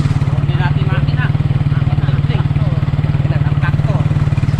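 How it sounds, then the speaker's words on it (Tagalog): A tractor engine runs steadily nearby with a low, even pulsing throb throughout, while people talk faintly over it. "Makina ng traktor."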